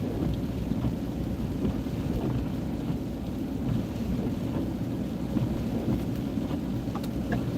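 Steady rain and a rumbling thunderstorm fill the scene, a continuous dense wash of falling water with low rolling thunder, loud and unbroken throughout with no talking.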